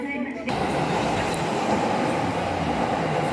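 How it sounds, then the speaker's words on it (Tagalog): A train rolls through a station in Japan with a loud, steady rumble that comes in abruptly and keeps up without a break. "may dumaan po nasa gitna po na train"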